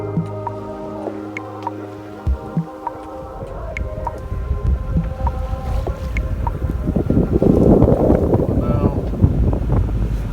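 A sailboat motors in toward Alderney under engine power after the wind died, its steady low engine drone carrying over water splash and wind buffeting that swell louder toward the end, with faint voices in the background.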